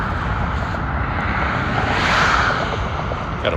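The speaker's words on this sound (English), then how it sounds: "Got a private jet going off over here." A private jet takes off during daytime plane spotting at Las Vegas, heard as a loud, steady broadband roar with a rising whoosh that swells near the middle of the clip and stays strong throughout.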